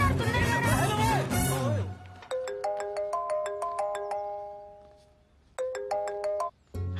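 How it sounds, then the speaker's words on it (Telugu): A phone ringtone for an incoming call plays a bright, repeating electronic melody in two bursts, starting after a few seconds of talk, with a short pause between the phrases. "ఫోన్ వచ్చిందంట."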